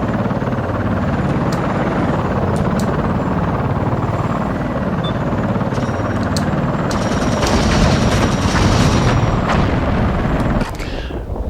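Loud, continuous helicopter rotor roar with scattered gunfire and explosion bursts, a dense battle soundscape from the PS2 game Thunderstrike: Operation Phoenix, without speech.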